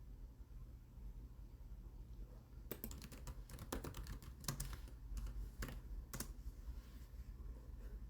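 Computer keyboard typing while a password is being entered on a form: bursts of quick, light key clicks after a quiet start, close by and faint against a soft background hiss.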